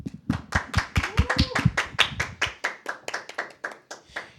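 An audience claps in a loose, steady rhythm of sharp hand claps after a call for applause for Rolando Tobit's faith segment on a Catholic talk show, fairly close, some thinning toward the end, with a brief voice near the start.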